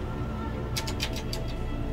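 A carrion bird in the video game Valheim gives a quick run of short, raspy calls, fairly close, over a steady low ambient hum.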